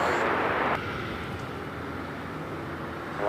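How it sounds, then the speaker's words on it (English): Gulfstream G600 business jet at LAX, a steady broadband engine rush that is louder at first, then drops to a lower, even hum. "This is a Gulfstream G600."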